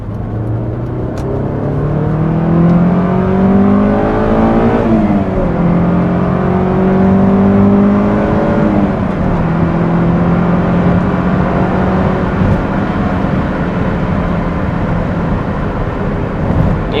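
A Honda S2000 fitted with an aFe Takeda cold air intake revs in second gear, its engine note climbing, dipping and climbing again in a loud, steady drone with no talk over it.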